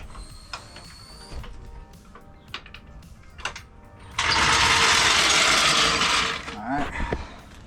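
A ratchet tightens strut bolts on a Toyota Tacoma. Scattered clicks and knocks build into a loud, dense burst of rapid ratcheting lasting about two seconds, then a few creaks and clunks follow, all close by.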